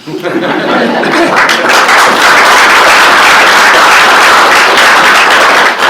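A council chamber audience gives a loud, sustained round of applause at a full council budget meeting, dense clapping throughout with some chatter and laughter mixed in.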